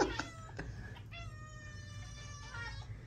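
Several cats near a cat tree meow in drawn-out, wavering cries, one after another, close and fairly soft, with short chirps at the start.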